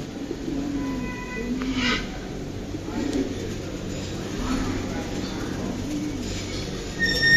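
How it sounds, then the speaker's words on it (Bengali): Pigeons from a farm's collection of many breeds coo softly in the background while people talk nearby, with occasional faint chirps. "যত রকমের কবুতর পাওয়া যায় মনে হয় সব এক জোড়া করে রাখছে"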